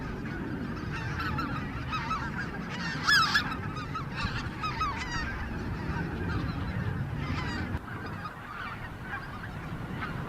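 A large flock of bean geese honks and calls continuously on a lake, a dense overlapping chorus at moderate distance with occasional nearer, louder cries and no talking.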